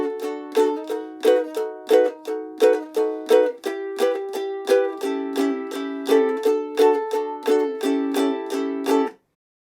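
A ukulele strums the intro to the Christmas song Mele Kalikimaka, a bright, steady rhythm of chord strums with accented beats, close and alone, ending abruptly.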